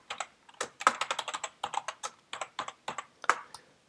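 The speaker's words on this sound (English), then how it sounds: "let's go ahead and enter in my password here" A password is typed on a computer keyboard during a WordPress blog login: a quick, uneven run of close, crisp key clicks with brief pauses between bursts, and no talking.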